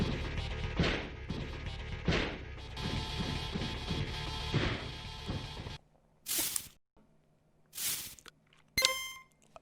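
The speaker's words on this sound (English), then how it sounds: "some of the ringside sounds like hitting the mat" Retro 8-bit style wrestling game sounds from Retromania: a series of sharp crashing thuds of a wrestler hitting the mat, first over music, then alone as separate isolated hits.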